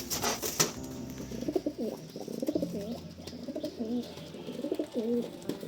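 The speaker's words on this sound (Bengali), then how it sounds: "এই দুটো পায়রা জোড়া করেছি এখানে।" Pigeons kept in a home loft coo nearby in repeated soft, rolling phrases, with a few wing rustles near the start and no talking.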